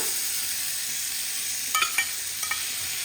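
Prawns and curry leaves fry in a pan with a steady, fairly quiet sizzle. A few brief stirring clatters sound near the end, and no one speaks.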